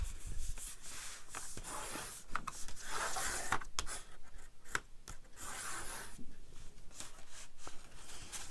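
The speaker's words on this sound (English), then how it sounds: "For those of you who are new, it's called burnishing." Paper or card being burnished along a fold, heard as a close, steady run of dry rubbing strokes repeated throughout, with no talking.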